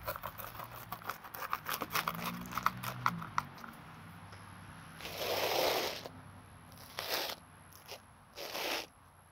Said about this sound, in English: I'm gonna go with the pizza cutter because it's a big boy.